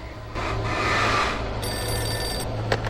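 A telephone rings in the game Alan Wake, with a bright, bell-like electronic trill over steady rumbling ambience and game noise, fairly loud and close.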